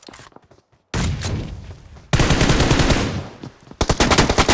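Rapid bursts of video game gunfire, automatic weapon fire crackling loudly in several dense rattling volleys that stop and restart, with no talk over them.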